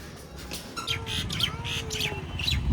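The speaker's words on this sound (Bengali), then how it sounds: "পাখির ডাক শুনতে।" Birds call in an eco park in the morning, with repeated bright chirps and a few squawks close by, layered over a steady low rumble.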